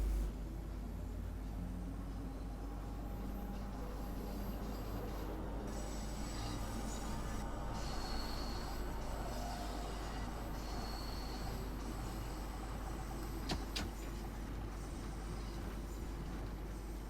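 Train running in Train Sim World 2 on a route toward Piccadilly Circus, a steady low rumble of rolling stock with metallic wheel squeals and brief high-pitched whines, continuous and fairly quiet with no talk.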